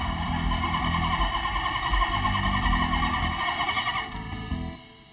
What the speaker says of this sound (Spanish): Oye, no sé por qué no enciende el motor.